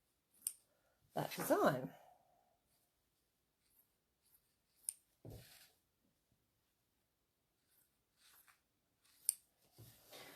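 Scissors snip roughly around stitched fabric for a trapunto quilting piece, giving a few short, quiet cuts and clicks separated by pauses, with a brief spoken remark near the start.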